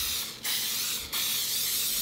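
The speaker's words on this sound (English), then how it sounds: "I'm just gonna spray it with some cooking spray" Cooking spray hisses into a 9-inch square baking pan in two loud, close bursts: one long spray, a brief pause, then a second longer spray.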